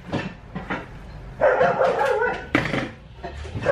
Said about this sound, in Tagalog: Pero yung aso ay maingay